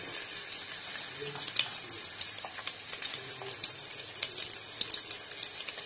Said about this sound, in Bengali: আমি এখন কুচি করা পেঁয়াজ এর মধ্যে দিয়ে দেব।